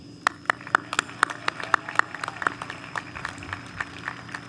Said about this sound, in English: give a round of applause to our amazing teachers